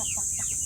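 Rhode Island Red chickens on a small farm cluck in a short, soft burst of a few overlapping calls, close and steady under a faint background hiss.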